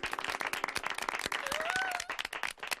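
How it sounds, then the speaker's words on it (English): Scattered hand clapping from a small group, irregular and moderately loud, with a brief whistle-like tone partway through. "Let's give Tammy a round of applause."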